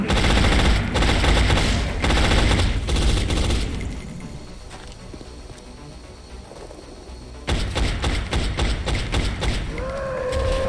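Suppression fire in the video game XCOM: loud, rapid bursts of machine-gun fire, a lull with quieter ambience, then another dense volley of shots near the end.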